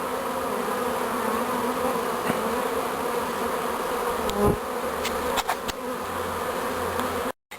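A honey bee swarm buzzes steadily and densely as it moves into a hive, a continuous close hum with a few louder passes of individual bees, ending in a brief cut.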